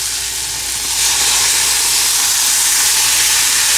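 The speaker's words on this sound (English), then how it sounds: "Now I am going to add half a cup of turmeric extract" Turmeric extract goes into a hot pan of cooked onion and tomatoes, giving a steady, loud steamy hiss and sizzle that swells after the first second and holds to the end.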